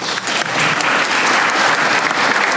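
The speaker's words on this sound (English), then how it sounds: "Please give him a round of applause, the new director." Dense, loud applause from an audience at a small business recognition awards ceremony, continuous and even throughout.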